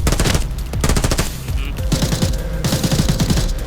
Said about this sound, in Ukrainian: Ідем, вони стріляють уже, чувак.